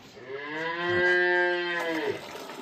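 A single cow lets out one long, drawn-out moo lasting about two seconds, loud and close, with quiet surroundings and no talking.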